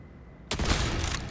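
Gunfire in the video game Borderlands, aimed at tree fruits, breaks out abruptly after a brief quiet, a loud, dense burst of rapid shots that continues to the end.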